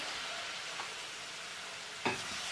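Garlic and chicken frying in a pan, a steady soft sizzle with a brief louder hiss and clatter near the end, fairly quiet and with no talking.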